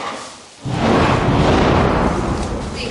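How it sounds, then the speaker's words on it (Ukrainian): A deep explosion-like boom from wartime strikes in Ukraine hits after a brief quiet moment, then a heavy, sustained rumble rolls on for a couple of seconds with no voices. "Весь цей час лунають вибухи."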